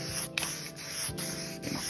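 An aerosol can sprays white paint onto a Honda K-Series valve cover, a continuous close hiss broken by brief pauses between short bursts.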